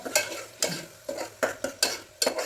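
Ground spice paste for mutton leg soup frying in oil, stirred with regular spatula scrapes about every half second over a soft, steady sizzle, close-up and moderately loud.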